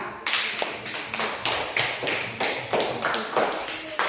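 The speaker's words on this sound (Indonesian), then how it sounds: "tepuk tangan untuk kelompok 2" Students in a classroom clap for group 2 in a rhythmic, unison beat, with sharp, evenly spaced claps of several hands and a faint murmur of voices underneath.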